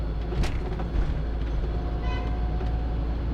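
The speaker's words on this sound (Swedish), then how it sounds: "Någon som tutar." A car horn sounds briefly from mid-distance while driving into town, a short tone rising over a steady rumble of traffic and road noise.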